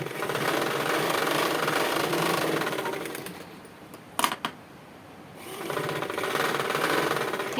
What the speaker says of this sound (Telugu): త్రీ స్టిచ్చెస్ వేసుకోవాలండి.